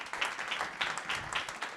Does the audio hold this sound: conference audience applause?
yes